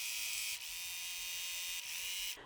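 A sewing machine runs steadily while stitching a quilt, a close, even mechanical buzz with a rapid needle rhythm that briefly eases and resumes before cutting off at the end.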